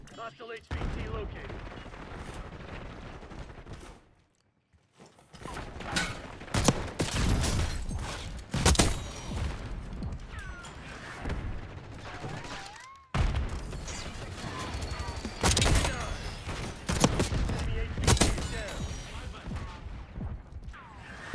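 Shotgun blasts and other gunfire ring out in the Black Ops 6 video game beta, with sharp bursts and short volleys scattered through the clip, a brief lull early on, and mechanical clatter between shots.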